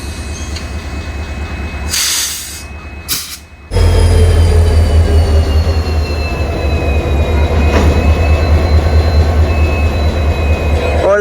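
Loud steady low hum of a train's engine or generator car at Pokhran railway station, with hiss and faint squeals over a constant drone, after a brief quieter start.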